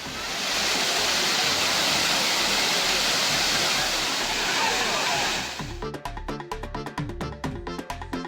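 Kumbakkarai waterfall with tourists bathing, a loud, continuous rushing roar of falling water that cuts off near the end, giving way to sparse thumps and clicks.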